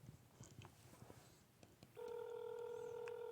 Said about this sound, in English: we're waiting for Gunga to answer his phone